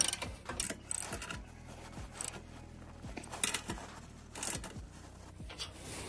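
Ratcheting clicks from a wrench tightening a loose bolt on the front skid plate of a first-generation Honda Ridgeline, several quick bursts of close, dry mechanical ticking spread through the clip with no talking.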